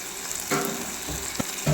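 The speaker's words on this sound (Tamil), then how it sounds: "இப்போ இந்த நல்ல வெங்காயம் தக்காளி வதங்கிடுச்சு" Soft sizzling of onions and tomatoes sautéing in a pan, a steady low crackle with a few brief clatters of stirring near the end.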